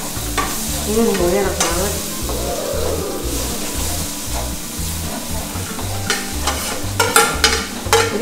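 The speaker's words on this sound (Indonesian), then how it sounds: "masukin bawang putihnya dan bawang merahnya, bawang putih semua, bawang merah semua, dan bawang bombay." Finely minced garlic and shallots with coarsely chopped onion fry in a hot pan, a constant sizzle broken by busy stirring and scraping, with a short spoken comment near the end.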